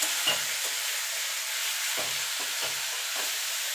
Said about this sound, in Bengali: মিনিট খানিক একটুখানি নাড়াচাড়া করে নেবো